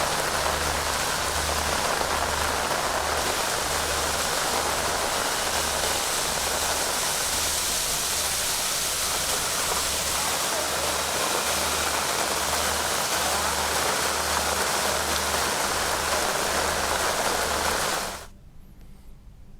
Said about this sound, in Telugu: హైదరాబాద్తో పాటు సంగారెడ్డిలో వర్షం కురుస్తోంది